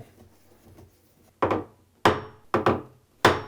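Four sharp wooden knocks and clunks, close and fairly loud, spaced unevenly after a quiet start, like clamps being set against a cabinet.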